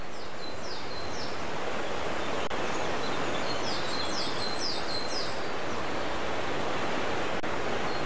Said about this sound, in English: a spectacular trail along the canyon brings hikers to one of Yellowstone's best-kept secrets, the Osprey Falls